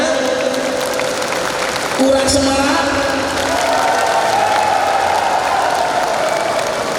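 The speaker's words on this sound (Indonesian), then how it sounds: "Tepuk tangan untuk semuanya." Applause and cheering rise from a large crowd at an outdoor supervision rally during the quiet period of the 2024 simultaneous regional elections in Malang Regency. The sound is a dense, steady wash throughout, and a voice talks over it briefly.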